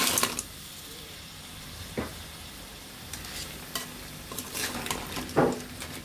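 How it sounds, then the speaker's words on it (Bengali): Crabs being stirred into a pan of sautéed spice paste, a soft sizzle running beneath scraping, clattering stirring strokes and a few louder knocks, close by, with no voices. "আমাদের মশলাগুলো কষানো হয়ে গিয়েছে, এখন আমরা কাঁকড়াগুলো এর মাঝে দিয়ে দিব।"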